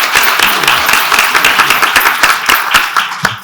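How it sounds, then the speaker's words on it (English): An audience applauds a panel at an event, loud clapping with distinct individual claps peaking through a dense, steady ovation for the full length. "So please join me in a round of applause for our panel."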